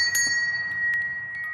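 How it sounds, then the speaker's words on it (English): A single bell strikes once and rings on with a clear, steady tone that fades slowly, heard close and alone. "This is a bell."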